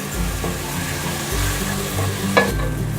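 Tomatoes sautéing in a pan for Arabic biryani make a continuous close sizzle with stirring and scraping, and one sharper clink near the end.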